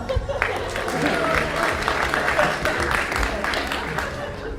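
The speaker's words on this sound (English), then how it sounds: "Give her a round of applause." Audience applause at a stand-up comedy show fills the room as a dense, steady wash of clapping and crowd noise that holds at an even level throughout.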